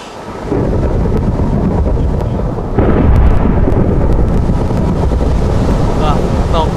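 Loud roar of rain with rumbling thunder swelling midway in Minecraft, a dense continuous wash of storm noise with no voices.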